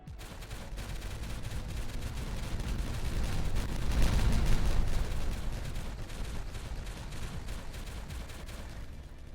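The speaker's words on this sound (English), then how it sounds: "In time for some antisocial nighttime explosions." Dynamite blasts set off at night in the beaver colony-building game Timberborn, a dense rolling barrage of booms that swells to a loud peak midway and then keeps rumbling on, with no talk.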